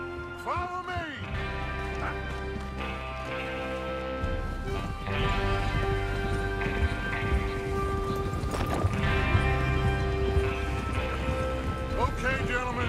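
Horses clip-clop along in the Red Dead Redemption 2 video game, their hooves thudding over a bed of steady orchestral music while a voice talks over part of it.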